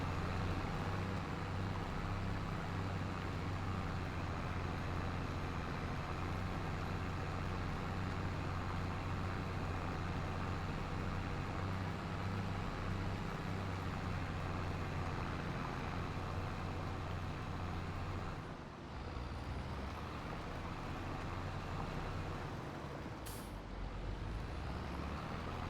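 Steady, low engine drone from a New Holland T7 tractor of over 300 horsepower in a farming video game, constant and unbroken for the whole stretch, with a brief dip near the end.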